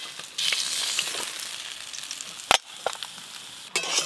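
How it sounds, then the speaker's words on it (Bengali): Golden fish fry in hot oil in a home kitchen, a steady bright sizzle close by, broken by a few sharp clacks of a spatula or utensil; no one speaks. "এই মাছগুলো ভাজা হয়ে গেল।"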